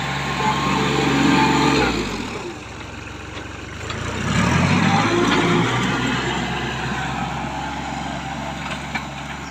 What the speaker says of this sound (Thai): ตัวนี้เป็นเครื่อง เครื่องดีทีนะครับจะเป็นรุ่นก่อนของตัว DI แรงกำลังก็ถือว่ายังดีอยู่นะครับ